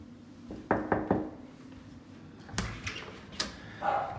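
Knocking on a door: a quick set of three raps, a pause, then another cluster of firm knocks, close and clear in a quiet room.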